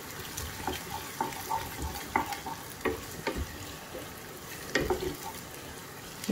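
Chopped onion fries in desi ghee for a tadka for haleem, giving a steady, close sizzle with scraping stirs and clinks from the pan, without any talk.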